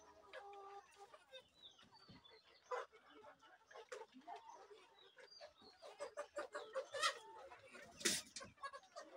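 Native laying hens cluck inside a small earthen-floored farm house holding hundreds of birds, overlapping close and distant calls in an irregular, busy chorus with soft bursts and occasional louder squawks.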